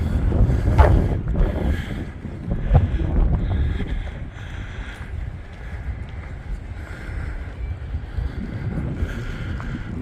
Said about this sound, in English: Catch a little wind.